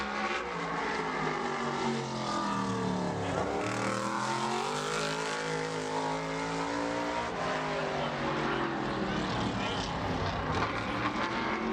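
A modified race car engine screams around the short oval at Bowman Gray Stadium during qualifying, the number 41 of Bobby Meesmer Jr.: a loud, continuous high-revving roar with pitch dipping and rising through the corners, under an announcer's commentary.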